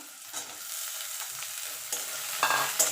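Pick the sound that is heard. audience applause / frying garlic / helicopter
frying garlic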